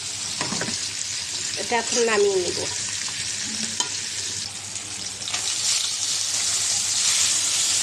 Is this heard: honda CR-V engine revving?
no